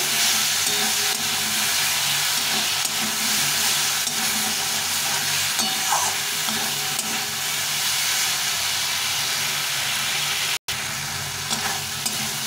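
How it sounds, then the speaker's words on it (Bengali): Flat beans with a bay leaf sauté in a pan, a loud, continuous hissing sizzle with occasional stirring, broken by one brief dropout near the end. "একটা তেজপাতা দিয়ে শিমগুলো দিয়ে দেবো। একটু কষিয়ে নেব।"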